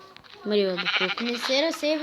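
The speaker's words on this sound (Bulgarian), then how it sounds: "О, още една овца." Sheep in the video game Minecraft bleat in a few quick, wavering calls, close and loud, with a person talking in Bulgarian around them.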